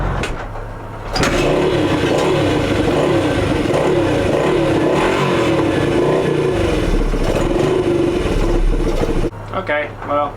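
A 1985 Honda XR80R motorcycle engine catches and runs roughly, a loud close sputtering drone that holds for several seconds, then cuts out, followed by a voice.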